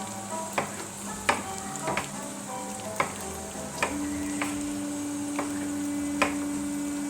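Tomato quarters dropped into a sauce frying in a pan on a home stove set off a steady close sizzle, punctuated by sharp clinks and stirring knocks of a utensil against the pan, with no talk.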